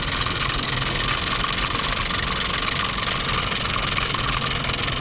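A Wilesco D365 toy steam roller runs on a methanol burner, giving off a steady, dense mechanical whirr and hiss that holds constant at close range throughout.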